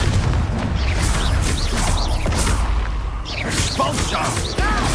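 The Expulso spell in Hogwarts Legacy bursts in loud booming explosions with crashing debris amid continuous battle noise, while a voice shouts spell names over the dense, heavy action.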